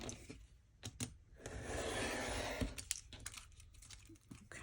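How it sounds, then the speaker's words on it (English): A blade cuts along a ruler to trim the edge off a sheet of paper, giving a steady scraping, rasping tear lasting a couple of seconds. Light taps and clicks surround it, close and fairly faint, with no talk. "I am going to take my ruler, and I'm going to cut this edge off."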